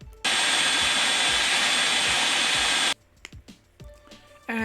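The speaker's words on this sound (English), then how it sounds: "we're going to whiz up our onion mixture" A blender whizzes up an onion mixture for a chicken jalfrezi with a loud, steady roar for under three seconds, then stops, leaving faint kitchen clatters and knocks.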